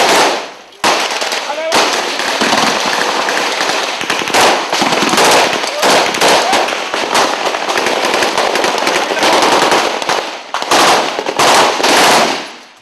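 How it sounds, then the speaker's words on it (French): Heavy gunfire pours down during an assault by Tanzanian troops advancing house by house through a neighborhood on the Anjouan Corniche road, with dense, rapid automatic bursts and cracks that are loud and nearly continuous. "Un déluge de feu s'abat sur le quartier."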